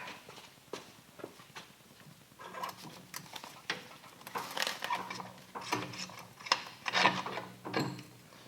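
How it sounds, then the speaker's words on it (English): A swing arm bolt is worked out of a Harley-Davidson Dyna in a garage. Quiet metallic scrapes, knocks and clinks repeat irregularly, growing busier and louder in the second half. "All you gotta do is support the swing arm and pull the bolt out"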